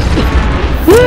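An airstrike explosion in Call of Duty lands as one sudden loud boom near the end, after a short stretch of rumbling battle noise.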